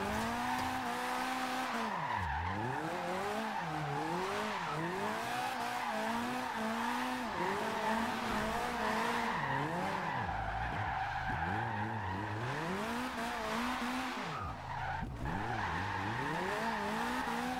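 A Mazda MX-5 sliding sideways in a drift build in Forza Horizon 2, with loud, continuous tire squeal that sweeps up and down as the engine revs rise and fall through long slides, close and steady throughout.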